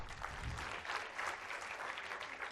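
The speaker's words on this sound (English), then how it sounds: "Applause, please." An audience at a literature festival claps steadily after an award-winning novelist is introduced, a dense wash of hands filling the room.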